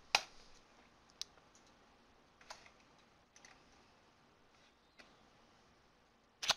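Faint, sparse clicks of a computer mouse at a desk, a few isolated taps spread out over several seconds against quiet room hiss, with no talking.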